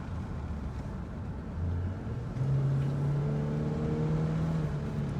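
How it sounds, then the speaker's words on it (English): A Ford car engine builds as it accelerates, turbo spooling with rising tones climbing steadily over a low rumble, heard at a modest distance without any talk. "Heard that turbo?"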